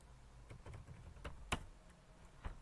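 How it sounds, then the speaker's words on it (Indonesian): Sparse, crisp computer keyboard keystrokes as a command is typed during a Damn Small Linux install, a few clicks with one sharp louder tap midway, close and clear against a quiet background. "Untuk balik ke GUI langsung aja ketik start X."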